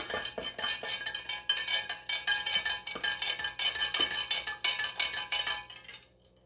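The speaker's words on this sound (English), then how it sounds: "We're going to just stir this to mix all the components together." Homemade lemonade being stirred with the back of a large slotted metal spoon, giving a quick, steady run of bright clinks and taps against the container before the sound stops.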